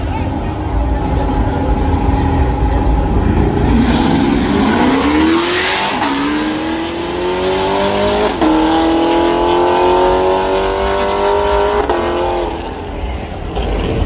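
Drag racing cars rev and launch down a drag strip, engines climbing loudly through rising gear sweeps with tire noise, several pulls over about fourteen seconds, with someone talking over the roar.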